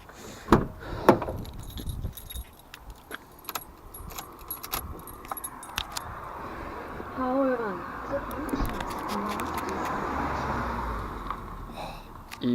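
Keys jangle and clink in bursts as someone digs through a back pocket beside a Vauxhall VXR car, with scattered rattles, faint movement and a soft voice in the background.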